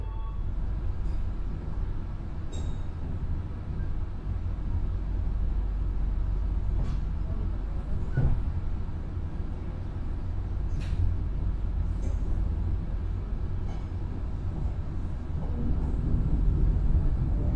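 Riding the Gaya Baru Malam Selatan economy train between Jakarta and Surabaya: a loud, unbroken rolling rumble inside the carriage, dotted with faint clicks and rattles.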